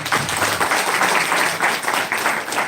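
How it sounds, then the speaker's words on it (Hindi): Hearty applause from the audience at a health awareness program in Mehalchori, brisk dense clapping that stays loud and close through the whole short burst. "एक जोरदार तालियां चाहूंगा"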